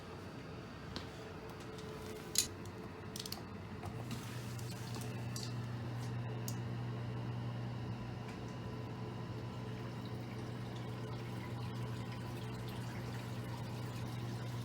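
A sump pump starts up and runs steadily, a continuous low hum with gurgling water drawn through, after a few clicks and handling noises.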